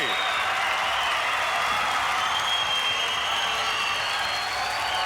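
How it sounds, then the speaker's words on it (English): Studio audience at an Australian Gladiators quarter-final, 1995, applauding and cheering in a sustained dense roar that continues throughout, with no break. "Let's hear it for our male quarter-finalists, Joe and Tommy"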